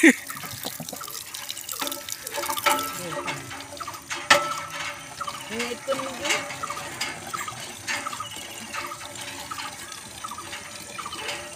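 Water being drawn at home: splashing and running water with drips and pours coming in uneven bursts, fairly close, with voices talking over it.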